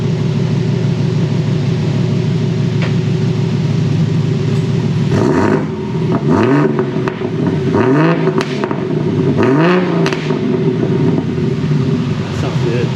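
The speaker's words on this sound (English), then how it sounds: "Alright, I get some exhaust clips here of the new setup." 1992 BMW M3 with a 4-inch exhaust running all the way back: a loud, deep idle rumble, then three sharp revs that rise and fall a couple of seconds apart before it settles back to idle.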